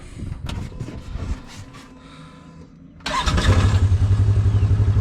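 A 2015 Polaris RZR XP1K engine in park cranks after some quiet handling noises, then fires and settles into a loud, close, evenly pulsing idle.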